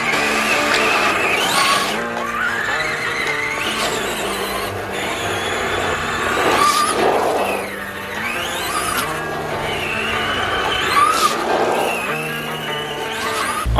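A small RC car on stock tires whines as its electric motor revs up and down in repeated rising and falling sweeps, heard fairly close with no talking.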